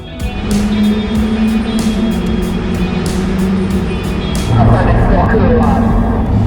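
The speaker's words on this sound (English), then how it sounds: "we're taking the Land Rover to the Nurburgring." Land Rover driving, with a loud, steady engine drone and rumbling cabin vibration heard from inside the vehicle, while people talk over it.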